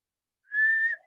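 A person gives one short, clear whistle on a steady, slightly rising pitch, heard alone in a quiet setting.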